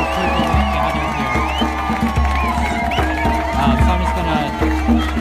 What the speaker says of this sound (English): There's some drums and chanting.